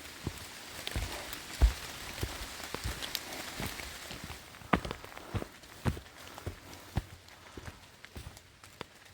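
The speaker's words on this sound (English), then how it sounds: "Now the showers become a regular rain." Steady rain falls on a forest stretch of the Appalachian Trail in Massachusetts or Vermont, a continuous patter with sharper drops and occasional footsteps through the wet.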